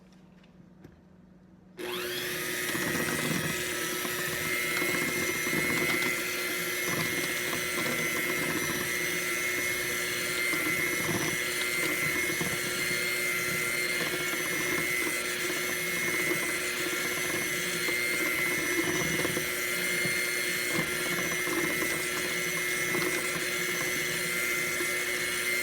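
An electric mixer starts abruptly and whirs loudly and steadily through pudding shot mix, a close continuous motor drone with a rattling, scraping edge and no talk.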